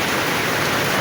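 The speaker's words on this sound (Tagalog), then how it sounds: "Ang lakas-lakas ng ulan." Heavy rain pouring down during two weeks of nonstop wet weather, a dense, loud, continuous roar of falling water with no pauses.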